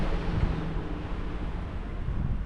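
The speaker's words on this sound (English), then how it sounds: "because it's very windy" Strong wind buffets the microphone on the island of Hvar in Croatia, a constant low rumbling roar that swells and dips slightly, loud and unbroken with no voices.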